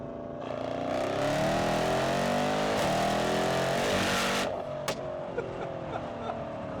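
A Stage 2 tuned Mercedes-AMG E63 S with the M177 engine at about 779 hp revs loud and close, holding a sustained rising roar before cutting off with a sharp pop and settling to a lower rumble.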